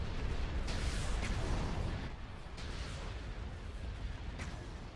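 Starship weapons fire in the Star Wars space battle game Thrawn's Revenge, a dense rumbling barrage of booming blasts and repeated bursts, loud and continuous, with no clear voices.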